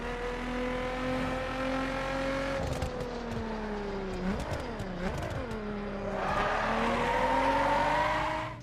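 Cars racing in The Crew, an open-world racing video game: a steady engine drone rises and dips through gear changes, with brief tire skids partway and a harsher surge of revving near the end, continuous and loud.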